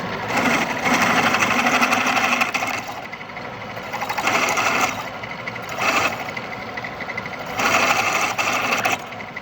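Lab drill press cutting a stepped hole, its motor whirring loudly and steadily while the cutting noise swells in repeated bursts roughly every two to three seconds, with no talking.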